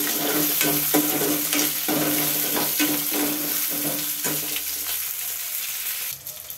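Chillies fry in hot oil for Andhra-style raw mango pulihora, a loud, close sizzle broken by repeated scraping stirs at a fairly regular pace that ease off toward the end.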